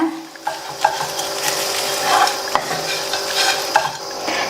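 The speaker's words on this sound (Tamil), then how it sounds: "எல்லாம் நல்லா ஒண்ணா மிக்ஸ் ஆகுற மாதிரி மிக்ஸ் பண்ணி விட்டுட்டு ஸ்டவ் ஆஃப் பண்ணிடுங்க" A spoon stirs kolukattai filling in a hot pan, scraping and clinking against the metal with a soft sizzle underneath, close and steady with occasional sharper knocks.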